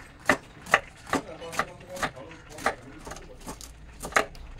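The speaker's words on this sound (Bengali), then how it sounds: "বাঁধাকপিটাকে আমি এখন ছোট ছোট করে কুচিয়ে নেব।" A knife finely chopping cabbage on a board gives about eleven quick, crisp taps at a steady rhythm, close but moderately soft against faint background noise.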